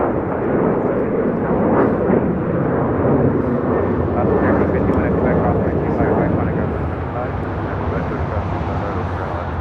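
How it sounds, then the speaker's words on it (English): A Delta Airlines Boeing 737-900ER departing LAX for Cancun roars steadily as it takes off, a broad loud jet rumble that slowly fades, with people talking over it. "615 taking off to Cancun on a 737-900ER."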